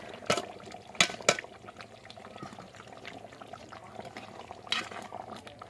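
Half a coconut goes into meat being fried down in a pan. Close, sharp clinks and scrapes rise over a soft, wet sizzle, with a faint voice in the background.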